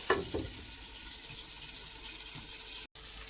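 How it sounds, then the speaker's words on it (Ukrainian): Carp frying in a pan under a lid, a steady close hiss of sizzling oil with a few soft pops and a brief clatter near the start. "Продовжуємо далі жарити під кришкою."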